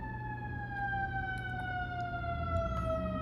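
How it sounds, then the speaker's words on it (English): Emergency vehicle sirens wail in a long, gliding tone that holds steady and fairly loud across the whole stretch, with no talk over it. "there go the sirens."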